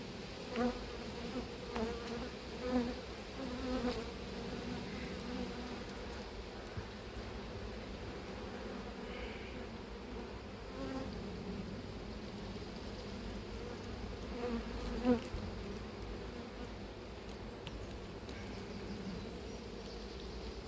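Honeybees buzz continuously around an open hive during an apiary inspection in swarming season, a steady close hum with occasional louder passes of single bees and faint rustling.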